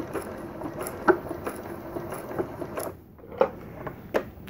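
A button being lock-stitched onto fabric by an electronic, computerised sewing machine fitted with a button foot: a few soft mechanical clicks and ticks at irregular spacing over a low, quiet hum, no talking.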